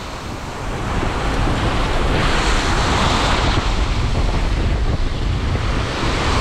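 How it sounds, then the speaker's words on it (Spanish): Strong wind roars steadily across the microphone over crashing surf on a beach, a constant loud rush with no voices. "Fuerte viento aquí."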